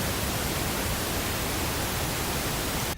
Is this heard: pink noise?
yes